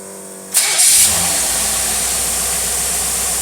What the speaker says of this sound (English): This carburetor really runs good.